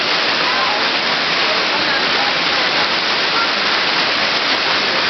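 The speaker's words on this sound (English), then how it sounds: "It supplies the water for the waterfall over by the chime tower." A steady, loud rush of falling water pours continuously, a broad hiss without pause.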